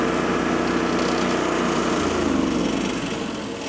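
An ATEX Kamikari RJ700 hybrid radio-controlled mower cutting dense, carpet-thick grass, its small engine droning loud and steady close by, with the pitch dropping slightly partway through.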